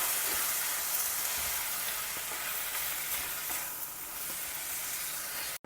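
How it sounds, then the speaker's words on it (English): Beaten curd being stirred into a capsicum gravy in a hot pan gives a loud, steady sizzle and hiss throughout, with faint scraping of the stirring spoon and no voices. "now add this beaten curd to it. And mix it all well together like this"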